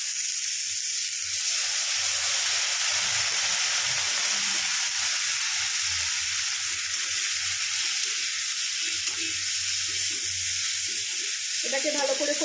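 Brinjal mash fries in a pan after water is added, setting off a loud, continuous hissing sizzle that runs the whole time, with faint stirring scrapes underneath and no talking.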